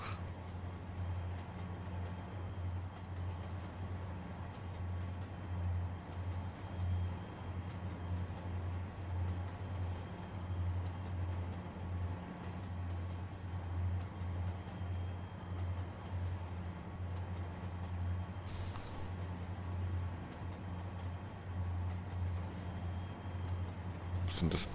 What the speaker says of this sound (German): Habe ich jetzt aber ganz stabil den Zug auf diese 29 Meilen pro Stunde hier bekommen.